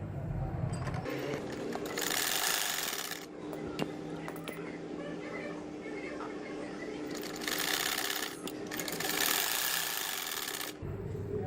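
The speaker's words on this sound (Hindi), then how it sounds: "अब दूसरे कंधे की सिलाई करने लगी।" A home sewing machine stitches the second shoulder seam of a baby frock made from leftover fabric, buzzing in two close, steady runs with quieter fabric handling between them.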